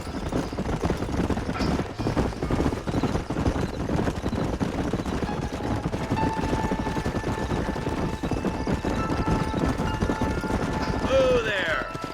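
Several horses' hooves clip-clop steadily and close in Red Dead Redemption, a continuous galloping patter that runs the whole time, with a whistle-like tone near the end.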